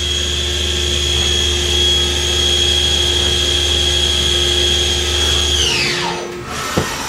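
A Takisawa MAC-V40 vertical machining center runs its spindle at around 4,500 RPM, a loud, steady mechanical whine with sustained tones, then winds down in a falling sweep, ending with a small clunk.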